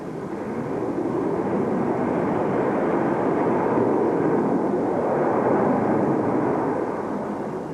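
A passenger airliner takes off, its engines building to a loud, continuous broadband roar that swells and holds steady throughout, heard close from inside the cabin.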